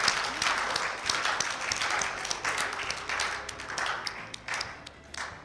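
At a mangrove awards event, an audience keeps clapping for a plaque recipient, a fairly close, steady patter of many hands with a few sharper individual claps standing out.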